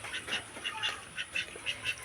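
Ducks kept at a flooded village home quack faintly in a steady series of short calls, roughly evenly spaced, heard from a little distance over soft background ambience.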